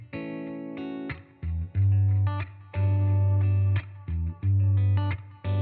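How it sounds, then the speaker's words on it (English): Guitar played through the BIAS Amp 2 software amp with a basic analog tape echo effect, sustained clean chords and notes with modulated repeats, moderately loud and without any voice. "Maybe we can go for a basic analog tape echo."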